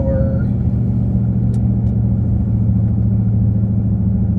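A car accelerates hard from a standstill to 60 mph during a tire test, its engine sending out a loud, steady low rumble with a sustained drone and no pauses, while a voice talks briefly over it.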